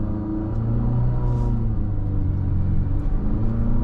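A 2023 Infiniti QX50 Luxe AWD with a CVT pulls away on the road after a hard stop, giving a steady, close engine and road rumble with low droning tones that hold throughout.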